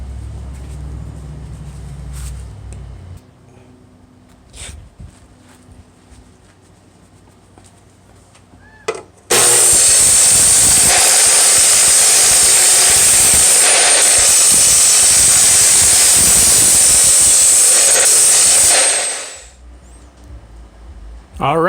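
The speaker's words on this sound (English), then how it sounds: "Now I'll just go ahead and clean this up, grind it, cut it, and I'll be able to weld it onto my collar." Angle grinder grinding and cutting mild steel for a lathe dog, a loud sustained harsh hiss lasting about ten seconds after quieter handling sounds, then winding down.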